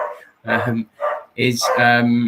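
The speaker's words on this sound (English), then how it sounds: "that's my dog going crazy" A pet dog barks in a home during an online talk, giving three loud, close yaps and whines that run together toward the end.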